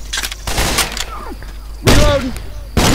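Grenade launcher blasts in the video game Left 4 Dead 2, two heavy explosive bursts with a rumbling tail, with someone talking over the game audio between them.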